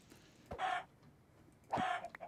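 A Minecraft chicken clucks twice, two short, fairly close clucks about a second apart against a quiet background with no speech.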